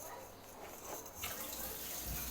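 Tap water runs into a kitchen sink while a milk glass is scrubbed, a steady low wash that swells louder in the second half, with a faint voice now and then.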